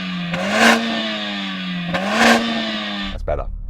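A Mercedes-AMG A45 S engine revs twice, each blip rising to a sharp peak and falling back to a steady idle, before a brief clattery burst at the end. The engine is close and loud.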